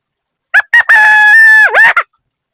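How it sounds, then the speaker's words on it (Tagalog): A rooster crows loudly and close by at a house: a couple of short clipped notes, then one long sustained call that dips and rises at the end. "may tumilaok na tandang dito sa bahay."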